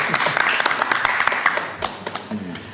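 Several people clap by hand during a live-streamed studio session. The claps are quick and uneven and go on for a few seconds, with voices faintly underneath.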